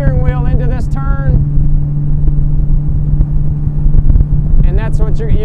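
Deep, steady engine drone of a bass boat motor running through a sharp turn, loud and close with wind rumble, while someone talks over it at the start and end.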